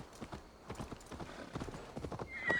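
Horse hooves clip-clop steadily along a road in Assassin's Creed Valhalla, a fairly close, rhythmic trotting with a brief whinny-like tone near the end and no talk over it.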